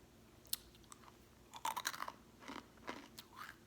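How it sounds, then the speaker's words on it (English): Close, crisp crunching as hard candy is bitten and chewed, a few sharp cracks then a cluster of crunches, quiet surroundings. "But you can hear how crunchy they are."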